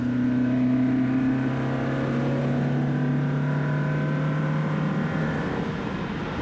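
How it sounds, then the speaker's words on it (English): Alfa Romeo Giulia Ti with a rebuilt 1.3-liter engine and twin Weber 45 carburettors, being driven to run the engine in: a steady, loud engine drone with a low humming tone held throughout. "today we're putting some miles on the car to run the engine in"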